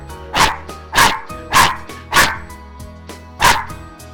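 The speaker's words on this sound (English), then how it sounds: "that's my dog" A dog barks five times at close range, loud and sharp, the first four barks evenly spaced about half a second apart and the last after a longer pause, over a low steady background hum with no talking.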